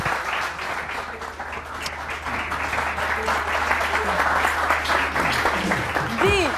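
A studio audience on a weekend talk show applauds in a steady, dense wash of clapping that holds throughout and builds slightly toward the end, with a voice speaking over it.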